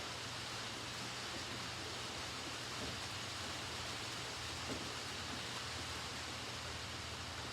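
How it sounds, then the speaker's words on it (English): Steady, dense hiss of heavy rain falling outside, a constant wash of noise with no breaks and no voices. "It's raining really hard outside right now."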